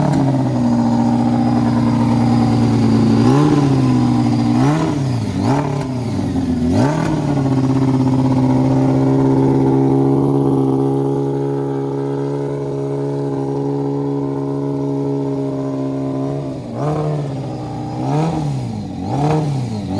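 Engine running close and loud with a strong steady tonal hum, repeatedly revved in swelling bursts early on and again near the end, with a calmer steady stretch in between.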